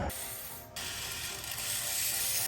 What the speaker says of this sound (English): To break it loose, I put a 21mm socket on it.